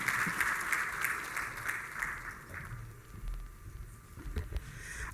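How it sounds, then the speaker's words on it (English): Hand clapping from the audience at a digital trade forum plenary session, a moderate, fairly faint wash of applause that lingers at an even level with a few distinct claps near the end. "Another hand clap for Manuela."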